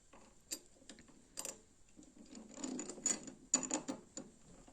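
Small clicking and ratcheting sounds come from a part being screwed in while a steering damper is fitted to a 2024 Kawasaki Ninja ZX6R motorcycle, faint and close with a few sharper ticks.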